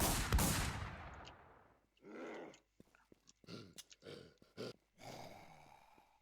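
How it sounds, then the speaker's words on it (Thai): Gunfire in the survival shooter game WarZ: a loud blast opens, then decays, followed by a string of shorter, sharper bursts and thuds spaced irregularly, with no talking. "ไม่ได้เสียงปืนกูจริงหรอวะ"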